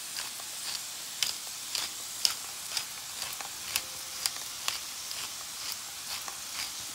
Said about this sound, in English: I'm gonna grind a nice amount of black pepper.